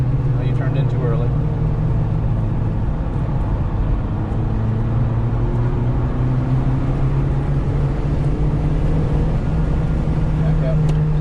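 A car engine drones loudly and continuously from inside the vehicle on the Carolina Motorsports Park race track, its pitch rising and falling slightly with throttle.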